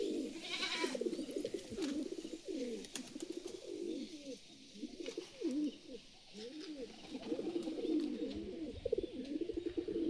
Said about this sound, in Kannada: ಇದು ಮಾತ್ರ ಒಂಥರ ಸೂಪರ್ ಐತೆ ನೋಡ್ರಿ ಪಾರಿವಾಳ ಇದು